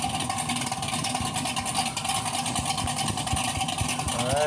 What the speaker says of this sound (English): Watch this freaking car go